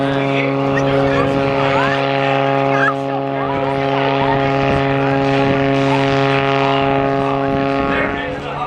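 A propeller airplane hangs almost motionless in a hover at an air show, its engine and prop giving a loud, steady droning roar throughout, with faint crowd and announcer sounds mixed in.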